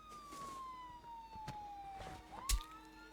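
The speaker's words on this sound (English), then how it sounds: "I heard the police sirens just after your head got cracked in." A police siren in Friday the 13th: The Game wails faintly in the distance, its tone sliding slowly downward and then rising again, with a brief sharp click near the end.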